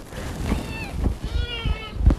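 Kittens at an animal shelter give several thin, high meows in quick succession, close by, over faint room noise.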